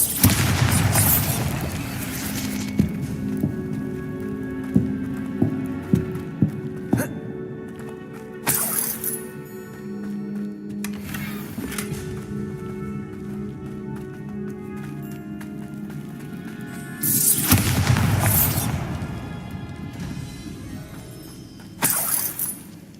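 Bombarda blasting spells in Hogwarts Legacy go off in several loud, shattering bursts, two big ones near the start and end, with shorter cracks and debris between over a steady game background.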